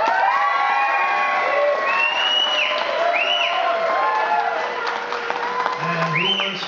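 A live concert audience votes by cheering, whooping and applauding, a dense, steady roar of many hands and voices with rising shrill whoops throughout.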